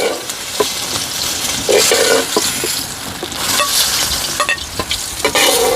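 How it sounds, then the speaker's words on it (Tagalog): Okra frying in hot oil in a backyard outdoor cooking setup, a continuous loud sizzle with occasional stirring scrapes and light clicks, no speech. "Nagpiprito po kayo ng okra."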